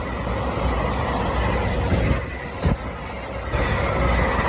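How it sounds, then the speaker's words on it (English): An LNER train on a London King's Cross to Leeds service rumbles steadily and loudly through Peterborough station with a continuous roar of wheels and carriages and a brief dip midway. "that's working a service from London King's Cross to Leeds"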